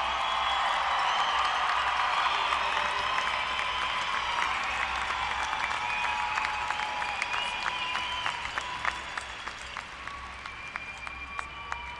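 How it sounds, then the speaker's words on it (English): A large commencement audience applauds the graduates, a broad sustained wash of clapping with crowd noise that thins slightly toward the end, with some distinct individual claps showing through. "Audience, please join me once more in applauding all of our graduates"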